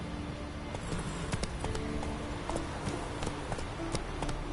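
Horse hooves clip-clop in a PS4 video game, a steady stream of light, even-paced hoofbeats over a constant background bed, moderately near, with no talking.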